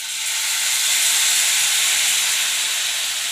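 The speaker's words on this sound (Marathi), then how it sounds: "आता हे नूडल्स तळून घेऊ त्यासोबत खायला आपल्याला." Noodles frying in hot oil, a loud, broad hiss and sizzle that swells quickly and holds steady for a few seconds with no voices.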